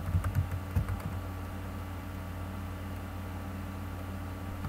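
Rapid keystrokes on a computer keyboard in a short burst at the start, then a steady low electrical hum with only faint isolated taps, close and quiet.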